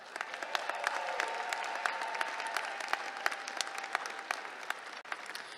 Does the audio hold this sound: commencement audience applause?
yes